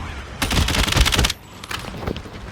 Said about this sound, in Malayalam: ഞാൻ ഓടുന്ന സമയത്ത് വെടിവെച്ചു